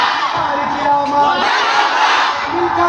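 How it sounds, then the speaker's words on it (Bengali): A religious gathering's crowd roars a unison chant of welcome, a dense wall of many voices shouting together, loud and sustained throughout. "এই যে মারহাবার আওয়াজটা শুনছেন"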